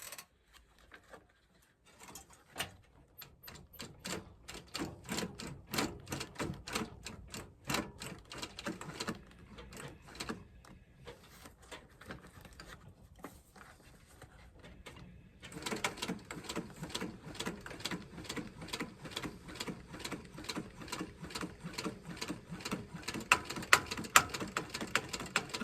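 Sewing machine stitching the heel counter of a Florsheim Yuma shoe being resized: rapid, even mechanical clatter that starts after a brief pause, runs in bursts, then settles into a steadier, louder stitching run near the end.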